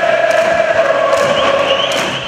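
Cruzeiro football fans in a stadium singing loudly in the heat, a sustained chorus of many voices with rhythmic thumps of drums or claps.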